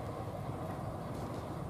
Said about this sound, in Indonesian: Kereta penumpang.